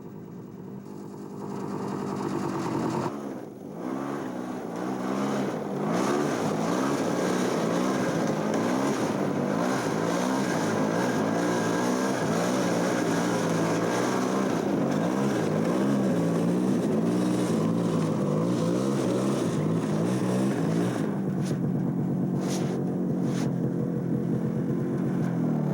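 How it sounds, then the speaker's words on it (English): Snowmobile engines drone loud and steady, hauling supplies and equipment from a truck to a snowy camp; the pitch wavers as the machines rev and ease off, running continuously for the whole stretch without any talk. "the boys begin hauling the supplies and equipment from the truck to the camp by snowmobiles"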